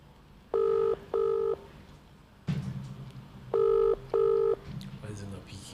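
A phone rings back while waiting for a call to be picked up: two paired bursts of a double tone, each pair separated by a pause. Voices and other noise sound between the rings.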